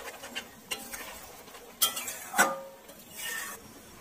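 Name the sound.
fried onions (beresta) being added and stirred into egg korma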